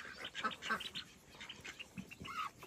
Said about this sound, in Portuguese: Lá veio o pato, tá aqui, tá lá.